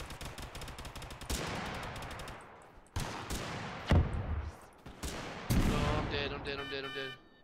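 Rapid video-game gunfire in bursts of sharp shots with several heavy impacts, loud and close, while players talk over the action.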